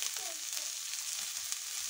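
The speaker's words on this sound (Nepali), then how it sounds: "अघि काटेको बन्दा र प्याज यसरी फ्राई गर्ने।" Chopped cabbage and onion frying in hot oil, a steady close sizzle with faint stirring scrapes, made while cooking chicken-flavoured chowmein.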